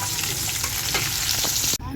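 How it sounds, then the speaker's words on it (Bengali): Fish frying in a pan with dense, steady sizzling and crackle throughout, close and loud, with a brief sharp cutoff near the end before the frying noise resumes. "সাথে সাথে ভাজা হইতেছে তো এই জন্য মাছটা একটু লাগিয়ে দিতেছে"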